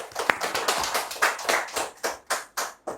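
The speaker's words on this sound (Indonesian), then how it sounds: "tepuk tangan dulu teman-teman" A small audience claps in a loose, separated rhythm, each clap sharp and distinct with short gaps between them, close by and fairly loud, no talking over it.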